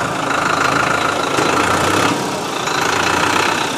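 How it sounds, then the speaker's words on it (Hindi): A Kartar 5936 tractor engine idles steadily up close, a continuous even rumble with a knocking diesel texture and no voices over it. "काफ़ी अच्छी आवाज़ है किरतार ट्रैक्टर ने जो ट्रैक्टर लॉन्च किए हैं 5936"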